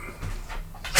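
A dog sneezes once, close by, with a short sharp burst right at the end of a quiet second with faint snuffling before it.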